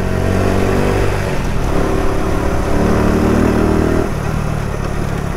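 Daytona DY125RS 125cc motorcycle, about 8 horsepower, running while ridden in first gear: a steady, loud engine drone with a shift in pitch midway, continuous throughout with no talk.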